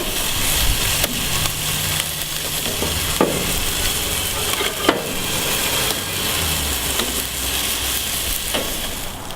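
Salmon fillet sizzling skin side down on foil over a grill, a steady close crackle and hiss with faint pops, running alone without talk.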